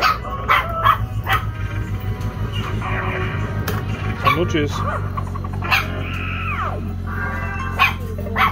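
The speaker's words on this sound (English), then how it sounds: "That's my puppy, by the way." A puppy gives short, sharp barks and yips scattered among chatter and electronic jingles from retro slot machines in a Blackpool arcade, with people talking nearby.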